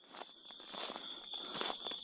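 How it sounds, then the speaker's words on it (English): Footsteps crunching through dark woods at night, several slow, soft crunchy steps over a steady high-pitched insect-like whine, fairly quiet and close. "with only the crunch of his own footsteps breaking the silence"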